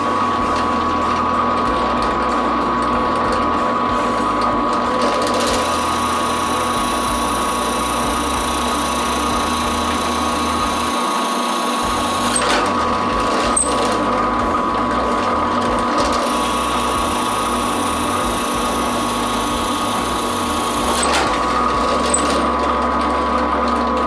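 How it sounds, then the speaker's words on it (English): A power drill with a brad point bit bores three holes in wood in quick succession, a steady whirring motor hum broken by sharp pauses where the bit finishes each hole. "We drill 3 holes rapidly"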